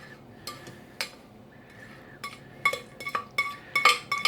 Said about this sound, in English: you have to stir them every now and then or they'll stick to the bottom of the pot.